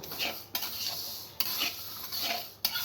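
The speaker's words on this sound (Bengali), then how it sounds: "এটা আমি ভেজে নেব 10 থেকে 15 মিনিট।" Moong dal dry-fried in a pan, heard as a continuous gritty sizzle and rustle with three or four distinct scraping stir strokes at a regular pace, close and fairly quiet.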